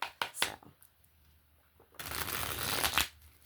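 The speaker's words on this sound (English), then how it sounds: "Cards are getting kind of crazy. So we'll do one more quick shuffle" Tarot cards being shuffled by hand, with a few short riffling bursts early on and then a longer, louder continuous shuffle that stops abruptly, close and clear with no talking.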